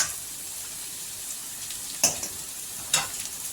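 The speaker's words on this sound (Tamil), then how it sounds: "நூடுல்ஸ் வேக வச்சு வச்சுருக்க நூடுல்ஸை இதில் சேர்த்துக்கலாம்." Boiled noodles tossed into vegetables frying in a pan, a steady hiss of sizzling oil with two brief sharp clatters of stirring.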